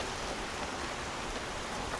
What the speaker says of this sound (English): It's raining a lot now